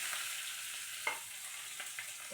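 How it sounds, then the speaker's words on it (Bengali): Raw onion dropped into hot oil for a Bengali fish paturi dish with morala fish, giving a steady broad sizzle that flares sharply as it goes in, followed by a few soft stirring knocks, close and alone. "তেলটা গরম হয়ে গেছে। তো এতে আমি এখন কাঁচা পেঁয়াজ দিচ্ছি"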